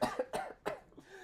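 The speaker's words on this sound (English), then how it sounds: "I was holding a cough that entire song." A person coughs three times in quick succession, close to the microphone, after singing on a relaxed livestream. The short, harsh bursts are followed by a quieter breathy tail.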